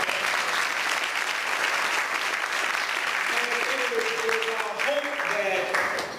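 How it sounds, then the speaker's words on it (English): Dense, sustained applause from a community forum audience fills the room at steady loudness, with a few voices calling out toward the end. "Let's give him another round of applause."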